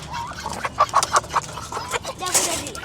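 Chickens clucking nearby in short bursts, with a few brief voices mixed in.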